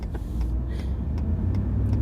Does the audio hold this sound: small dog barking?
no